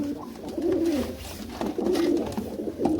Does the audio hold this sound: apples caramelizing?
no